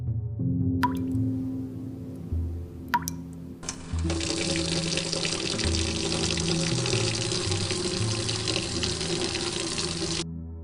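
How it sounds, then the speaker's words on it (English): Water gushes from a tap in a strong, steady stream for several seconds, loud and close. A few faint drips and a low musical drone come before it, and the drone continues underneath. "Then the water comes out in a flow."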